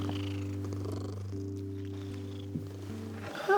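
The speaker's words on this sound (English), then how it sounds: "She's purring." A cat purrs steadily up close, a low continuous rumbling hum with a soft rhythmic pulse, alone and fairly quiet.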